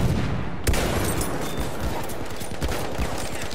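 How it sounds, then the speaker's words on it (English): Enemy gunfire in an online multiplayer shooter: a dense, continuous spray of automatic shots with a few heavier bursts, loud and steady across the whole stretch with little talk. "I'm looking, enemy shooting"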